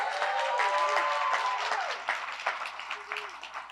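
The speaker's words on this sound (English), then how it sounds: "Can we give Declan a round of applause?" Applause from an awards ceremony audience honoring Declan Cassidy, moderate and scattered with a few whoops, gradually thinning out and fading over a few seconds.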